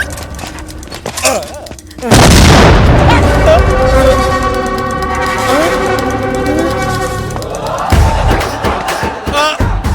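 Bombs blast in a Telugu comedy film scene, a sudden loud boom followed by sustained rumbling and crackle, with music and shouting voices layered over the explosions.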